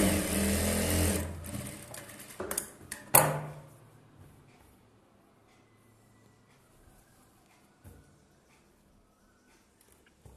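A sewing machine stitches a blouse in a short, loud burst of rapid running at the start, then a few clicks and knocks of handling before the room falls mostly quiet with faint background sounds.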